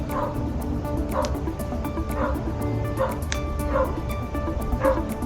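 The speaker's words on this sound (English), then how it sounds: "Sorry, my dog." A dog in a garage or van workshop gives a series of short yips or barks, about one every second, moderately close over steady background hum.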